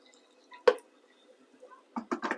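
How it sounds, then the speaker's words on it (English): Water goes into a saucepan holding thick sausage casserole sauce: a few faint, brief splashes and drips, with one sharper splash early and a short cluster of liquid plops near the end, amid quiet. "I'm just going to put a little bit of water in the saucepan"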